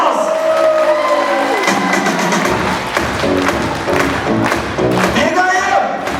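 A crowd claps and cheers at a Kazakh family celebration, a 70th-birthday and circumcision feast, with whoops and voices. The sound is dense and continuous, mixed with music and talk throughout.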